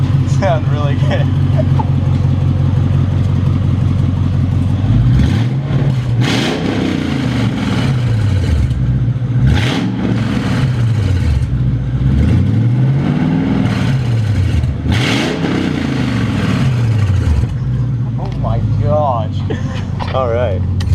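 An AMG car engine with its exhaust removed revs loudly and up close, sweeping up and down through several throaty, rising and falling revs over a steady rumbling idle.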